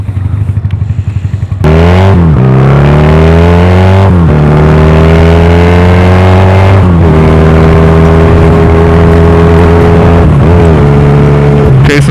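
A Honda Rebel 250 motorcycle engine revs loudly and up close during rev-match downshifts, its pitch sweeping up in quick blips and then settling and climbing again several times over steady engine drone.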